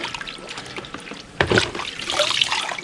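Water trickles and splashes as a wet cleaning tool for vinyl and aluminum siding is wrung out, with a brief burst of dripping and a soft splatter nearby.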